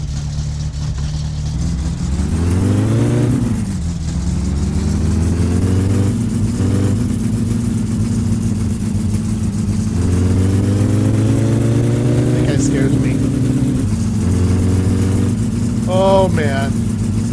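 Car engine in the driving game My Summer Car, a steady loud mid-pitched drone that rises and falls as the car revs and shifts, continuous throughout with a few brief tonal blips near the end.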